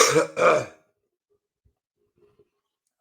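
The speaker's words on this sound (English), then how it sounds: "Clear your throat a couple more times, just to be safe." A man clears his throat twice in quick succession before a live radio music performance, close and loud, followed by near silence.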